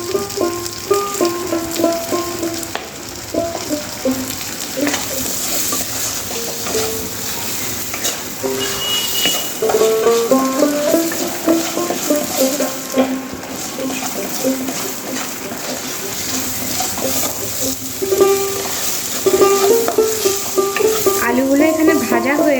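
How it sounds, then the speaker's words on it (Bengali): Potatoes sizzle and fry steadily in a pan for a vegetarian chhanar dalna, with occasional stirring scrapes and background music running throughout. "আলুগুলো এখানে ভাজা হয়ে গেছে"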